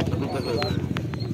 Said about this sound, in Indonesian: Merpati pos warna putih.